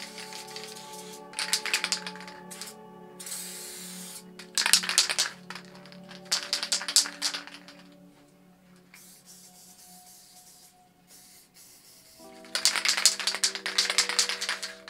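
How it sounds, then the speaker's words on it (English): A spray paint can fitted with a stock orange dot fat cap releases several loud hissing bursts of paint at close range, separated by quiet gaps, with a faint steady hum underneath. "I'll just show you how the stock cap sprays compared to a skinny cap"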